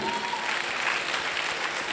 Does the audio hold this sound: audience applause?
yes